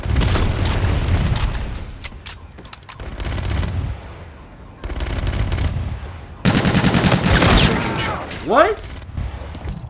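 Rapid automatic gunfire in the Call of Duty: Infinite Warfare multiplayer match, loud sustained bursts with heavy booms and mechanical clatter, a short questioning voice cutting in among the shots.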